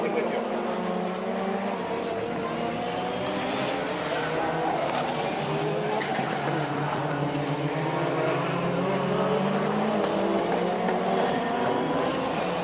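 Group B style rally car of about 680 horsepower racing past, a loud sustained engine roar building and holding steadily at close range, with no one talking.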